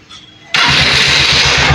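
A Honda TMX Supremo motorcycle engine with a freshly cleaned carburetor fires up after a short crank and settles straight into a loud, steady, close idle with no voices.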